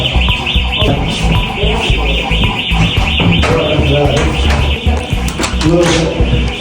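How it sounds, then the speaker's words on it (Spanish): A loud alarm blares continuously with a wavering, repeating electronic tone, accompanied by rumbling and clatter. "Otra vez la alarma"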